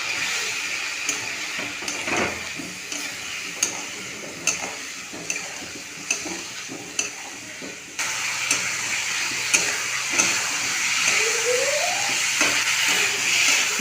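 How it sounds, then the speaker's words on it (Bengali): Masala of turmeric, cumin and coriander powder, ginger-green chilli paste and a little water frying after softened tomatoes, giving a loud continuous sizzle and hiss with regular spoon taps and scrapes, the sizzle swelling louder partway through. "হলুদ গুঁড়ো, জিরে ধনে গুঁড়ো, আদা কাঁচা লঙ্কা বাটা, সামান্য জল দিয়ে মশলাটা খুব ভালো করে কষিয়ে নেব"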